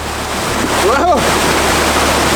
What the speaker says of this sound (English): I absolutely love semi-frozen waterfalls